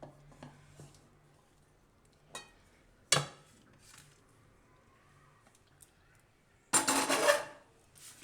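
Jaggery and gram-flour mixture for gram-flour laddoos scraped out of a pan onto a plate, giving scattered metallic scrapes and clinks, a sharp knock, and a loud burst of scraping near the end, with no talk.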